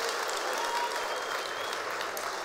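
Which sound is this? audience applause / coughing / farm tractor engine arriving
audience applause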